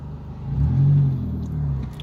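Car fitted with a Cherry Bomb muffler driving fast, a deep throaty exhaust drone that swells and peaks mid-pass, then eases and rises again, heard close with no talk.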